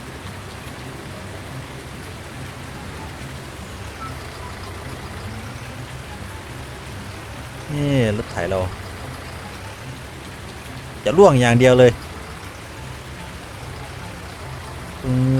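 Steady rain hiss fills a Farming Simulator 19 scene throughout, with someone talking briefly in two short bursts and a faint engine-like rumble underneath from a truck stuck in mud.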